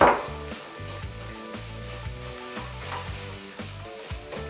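Flour cooking in a pot of caramelized vegetables for chicken noodle soup gives a steady close sizzle with light stirring scrapes, over faint background music.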